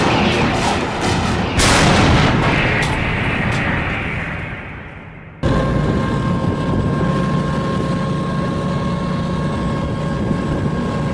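Heavy artillery fire and a bomb impact in a war zone, a loud rumbling roar that briefly dips before a sharp, booming blast returns into a sustained low rumble, with no voices.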